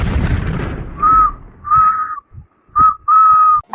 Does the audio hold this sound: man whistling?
yes